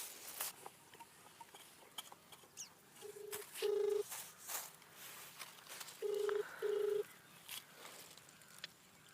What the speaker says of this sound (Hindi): लाओ देखिए फोन करी तो फिर कहाँ चला गवा